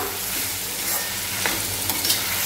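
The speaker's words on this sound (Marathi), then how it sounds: "तर इथे आपण बारीक चिरलेला बटाटा सुद्धा घालणार आहोत, तो मिक्स करून घेऊया" A spoon stirs finely chopped potato into a sizzling cauliflower-and-pea curry in a pan, with a constant frying hiss broken by a few sharp scraping strokes and no talking.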